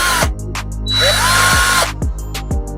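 Bosch cordless drill-driver spinning in short bursts, a steady high whine with tonal harmonics, stopping and restarting several times, close and loud with no talking.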